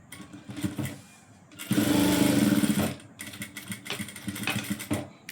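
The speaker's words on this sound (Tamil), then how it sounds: "இந்த மாதிரி தான் இந்த தையல் தைக்கணும்" A tailoring sewing machine stitches a seam joining fabric pieces in short rattling runs, with one longer, louder burst of rapid needle clatter in the middle and lighter intermittent stitching around it.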